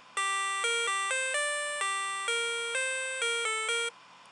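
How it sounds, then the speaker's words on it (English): A bright synth lead made in NI Massive plays a big room house melody, a run of distinct plucky notes in a steady rhythm, loud and alone for about four seconds. "big room house lead melody"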